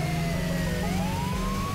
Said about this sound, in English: I can toggle the siren.